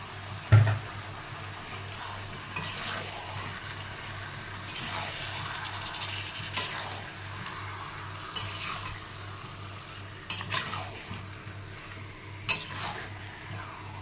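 Marinated chicken with chilli powder, turmeric and oil cooking in a masala in a pan: a low, continuous sizzle with occasional close scrapes and knocks of a spatula stirring.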